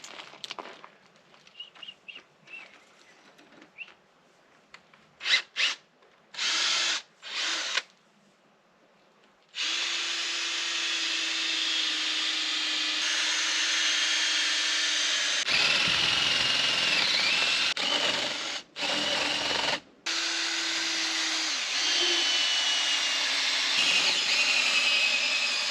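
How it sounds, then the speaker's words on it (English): A power drill bores holes in dried tree wood for an outdoor gazebo, starting with short stop-start bursts, then a long loud sustained run that breaks briefly a few times. "Once it's dry, I can drill these holes."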